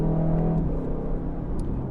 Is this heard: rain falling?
no